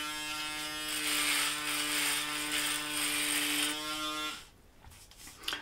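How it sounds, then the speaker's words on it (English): A Panasonic ES-RT37 electric shaver used dry buzzes close up with a steady, loud motor whine for about four seconds, then stops, leaving faint handling noise. "initially I'm going to try it as a dry shaver and see what that's like"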